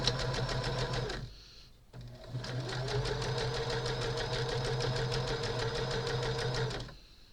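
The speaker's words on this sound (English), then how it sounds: "because it's the zigzag stitch, it zigs and zags from one side of the yarn to the other." A sewing machine zigzag-stitches over yarn along quilt block seams, giving a fast, even mechanical chatter. It starts with a short burst, pauses briefly, then runs steadily for several seconds before stopping.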